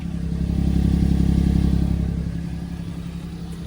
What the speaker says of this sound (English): Sounds like it has a little exhaust too.